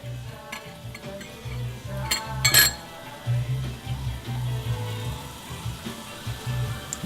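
Pasture-raised organic eggs with tough shells are tapped and cracked against a bowl, a few sharp clinks amid a low hum of kitchen noise.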